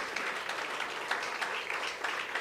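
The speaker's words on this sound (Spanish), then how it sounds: "dale una fuerte ofrenda de aplausos" Church congregation giving applause during a Spanish-language worship service, a steady wash of clapping from many hands at moderate distance, with no voices over it.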